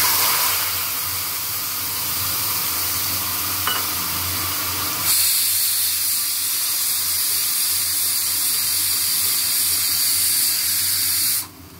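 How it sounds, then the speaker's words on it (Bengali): Spice paste frying in a kadai, a loud continuous hiss that abruptly grows brighter and stronger partway through, then cuts off at the end, close up with no talking. "মশলাটা খুব ভালো করে কষাবো।"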